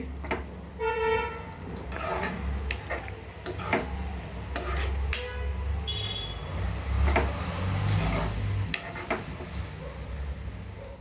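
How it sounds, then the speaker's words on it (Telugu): Milk stirred in a pan over a low flame while making carrot halwa, with a series of scattered metallic scrapes and clinks of a spoon against the pan over a low background hum. "పాలు ఎగిరేదాకా సిమ్లో పెట్టి కలుపుతూ ఉండాలండి"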